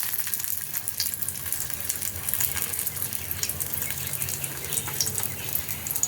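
Eggs wrapped in pumpkin leaves fry in oil on a flat griddle over a gas flame, giving a continuous crackling sizzle with scattered sharp pops, close and steady, with no voices.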